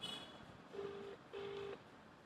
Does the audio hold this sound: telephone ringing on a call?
yes